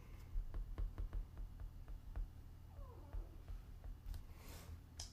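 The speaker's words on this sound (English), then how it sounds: "My cat just made the cutest noise ever." A cat gives a soft, short meow and a brief chirpy call in a quiet room, with faint tapping clicks scattered around.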